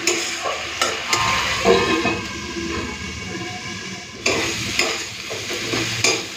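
A spoon stirs and turns bitter gourd and potato curry in a pan, scraping and knocking in repeated strokes over a steady background sizzle, with a brief pause before the stirring starts again.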